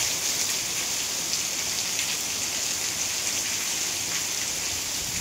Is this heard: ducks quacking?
no